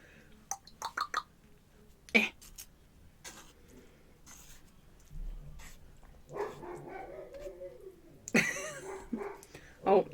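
A house dog gives a few sharp, jealous barks and yips, spaced out and fairly close, with a person talking in between them.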